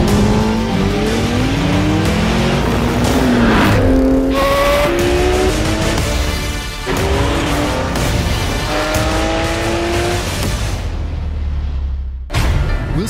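A Porsche 918 Spider plug-in hybrid supercar with a 4.6-liter V8 and electric motor accelerates hard, its loud engine climbing through repeated gear changes close by, with some tire noise before it fades out.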